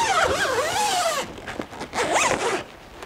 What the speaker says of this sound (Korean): 지퍼 여는 게 생각보다 쉽더라고요.